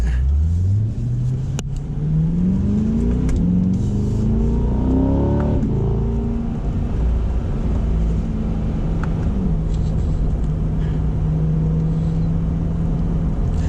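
A 2021 C8 Corvette pulls away hard in manual mode, engine note climbing through the gears with rising pitch sweeps and brief breaks at each shift, then settling into a steady loud cruise drone heard from the cabin.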